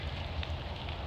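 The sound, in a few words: rain falling outdoors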